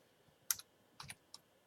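A few sharp computer keyboard keystrokes tap out a name, coming in small separated clusters of clicks against a quiet background, close and moderately loud.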